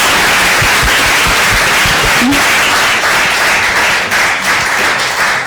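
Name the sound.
audience round of applause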